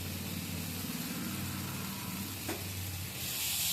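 Spiced potato and pea filling for green pea kachori fries with turmeric in a pan, a steady broadband sizzle with low cooking rumble and a brief scrape near the end.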